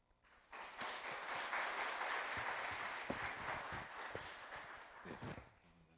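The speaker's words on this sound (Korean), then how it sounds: "선교사님 나오실 때에 박수로 환영하겠습니다." A church congregation at a Bible conference in Edmonton, Canada, claps in welcome for a missionary. The applause is steady and dense across the hall and fades near the end.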